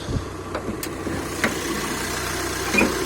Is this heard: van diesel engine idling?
yes